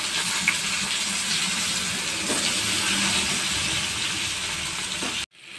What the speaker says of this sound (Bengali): আলুটা একটু ভাজা ভাজা করব।